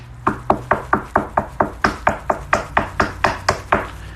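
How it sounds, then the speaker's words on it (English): Someone knocks on a hotel room door on the third floor with a steady run of about sixteen sharp, evenly spaced raps, loud and close, with no voices. "He knocks on the door."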